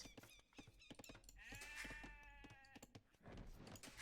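A sheep bleats in an Age of Empires–style strategy game, one clear wavering bleat rising mid-clip over a busy bed of clicking game effects and ambient noise.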